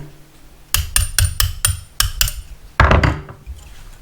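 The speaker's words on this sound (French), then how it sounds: "vous donnez des petits à-coups avec le marteau" Hammer tapping a threaded rod to drive a bearing out of a brushless drone motor, about seven sharp metallic knocks in a steady rhythm, then a short scraping clatter, close and loud with no talking.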